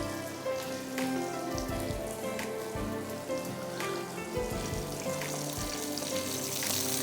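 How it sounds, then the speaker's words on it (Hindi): Food sautéing in a hot pan while cooking chocolate walnut bread pudding, a steady close sizzle and crackle like light rain that holds at the same level throughout, no speech. "जब ये हल्का सा सौटे हो जाए, थोड़ा सा फ्राई हो जाए"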